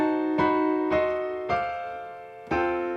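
Four spread-voiced piano chords in the lift 2 (drop 2-3) voicing, each struck cleanly and left to ring, spaced about a second apart with no talking.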